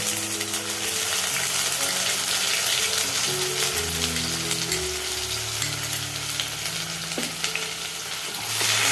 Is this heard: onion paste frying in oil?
yes